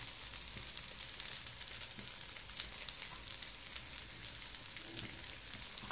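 Chard and coriander, green and dried, fry in a pan with garlic, giving a steady, even sizzle that runs unbroken throughout without any talk.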